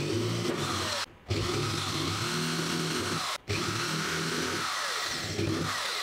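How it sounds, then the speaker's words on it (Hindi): An electric drill bores 5 mm holes in a box, running loud and close in long continuous whines broken by two brief stops. "तो चलिए फ्रेंड्स अब हम कर लेंगे इनके अंदर छेद जो कि 5 mm के करेंगे।"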